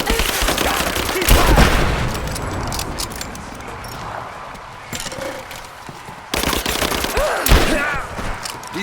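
Gunfire in the video game Rise of the Tomb Raider: dense, overlapping volleys of shots with bursts and rattling impacts, loud and close, easing off midway and then flaring again toward the end.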